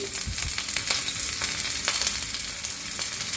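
Garlic cloves and a handful of onion frying in hot oil for a fenugreek-leaf dish, giving a steady loud close sizzle with a few stirring scrapes throughout.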